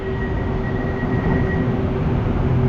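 A steady, loud rumble of a train rolling past nearby near Abad Santos in Manila, continuous rail noise with a faint high whine, no voices.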